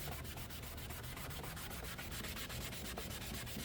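Hand rubbing and sanding of a car headlight lens with a Meguiar's headlight restoration kit, a fast steady back-and-forth scrubbing rhythm, close and continuous with no talk.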